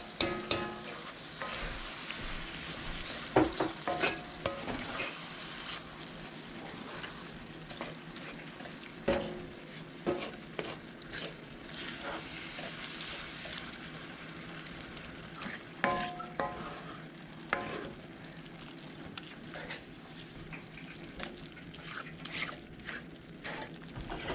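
Sloppy joe meat with onion and barbecue sauce being stirred in a pan, a soft wet sizzle with repeated scraping and clinking of the spoon against the pot at an uneven pace, no voices.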